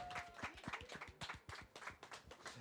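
Scattered, uneven hand claps from a small group on a French web TV show, distinct individual slaps rather than a dense roar, fairly faint.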